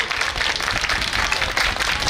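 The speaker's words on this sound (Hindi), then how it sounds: "एक बार ताली बजाओ इस माँ के लिए।" Audience at a Navratri Mata Rani bhajan event claps steadily in a dense, continuous burst of many hands, loud and close, lasting a couple of seconds.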